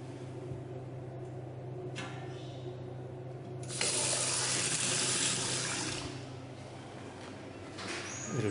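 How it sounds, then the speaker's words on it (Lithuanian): In a free public toilet in Marijampolė, Lithuania, a sink tap opens and water gushes loudly for a couple of seconds, then eases to a quieter trickle before picking up again. "ir vanduo bėga"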